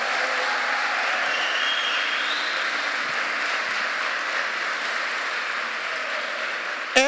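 A church congregation applauds in a steady, unbroken wash of many hands clapping together for several seconds, fairly even in loudness and heard from within the room.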